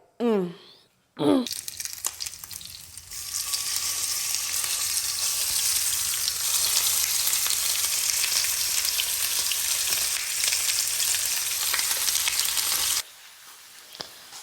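Ingredients for pho sizzle and fry steadily in a hot oiled pan, a loud continuous crackle that lasts about twelve seconds and then cuts off, with a brief voice speaking at the start.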